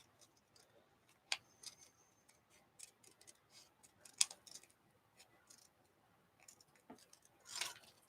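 Scissors cut paper into curled shapes with scattered quiet snips and small clicks at irregular intervals, close by but soft in an otherwise hushed room.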